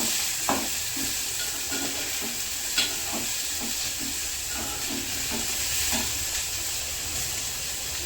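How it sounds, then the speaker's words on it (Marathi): Onion and tomato fry in a pan with a steady broadband sizzle, while a spoon scrapes and stirs in repeated soft knocks throughout; no talking. "कांदा थोडासा ब्राऊन करायचा आणि मग आपण याच्यात टोमॅटो टाकायचा."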